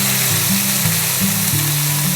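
Jalapenos and tofu frying in a hot pan, a steady close sizzle with a low mechanical hum that shifts pitch in steps, no voices.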